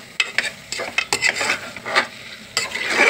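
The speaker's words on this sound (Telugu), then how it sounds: "కారం స్మెల్ పోయేంత వరకు అలా కలుపుకుంటూ ఉండాలి." Chili powder being stirred into mutton curry in a pan, with a spoon scraping and clinking in irregular strokes over a soft sizzle from close by, no talking.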